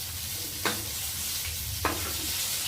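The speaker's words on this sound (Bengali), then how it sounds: "মাছগুলোকে দু পিস করে ভালো করে লাল লাল করে ভেজে নিয়েছি" Fish pieces frying in hot oil with a steady broadband sizzle, broken by two sharp scraping clicks of a utensil, near and moderately loud with no voices.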